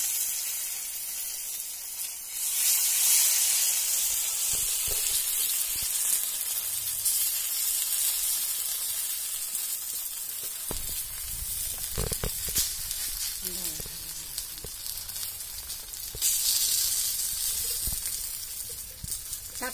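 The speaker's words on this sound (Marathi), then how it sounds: "आता ह्या वड्या आपल्याला चुलीवर तव्यावर भाजून घ्यायच्या." Taro leaf vadi frying in oil on a griddle over a wood-fired village stove, a continuous close hiss and sizzle with occasional scraping and stirring knocks throughout.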